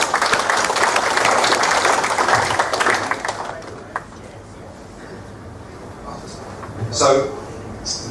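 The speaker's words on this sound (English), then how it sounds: "Big round of applause to you all." Audience at a Salisbury Business Association annual meeting applauding, a dense burst of clapping that fades after about three seconds, followed by quieter room sound and a brief voice.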